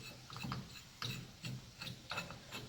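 A ratchet with a 3/4 socket tightens the steering wheel nut on a car, giving several quick bursts of close, crisp clicking in a steady back-and-forth rhythm, quiet and alone.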